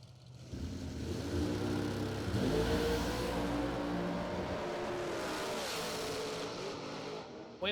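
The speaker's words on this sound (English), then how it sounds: "Winlight top end dragster, Jones, 14." A top-end dragster at a drag strip during a bracket racing event, engine roar rising with harmonic sweeps as it accelerates down the track, heard from a distance and steady before fading.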